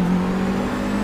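Nick Hamilton's 2014 Audi racing at Brands Hatch in the Forza Motorsport 6 video game, a steady engine drone with a whirring tone, held at an even level for a brief moment without speech.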